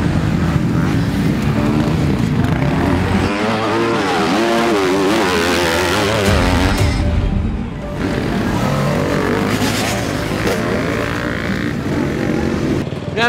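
An electric motorcycle races against petrol motorcycles on a track, loud wavering engine howls rising and falling as bikes accelerate and pass, with continuous mechanical roar and wind throughout.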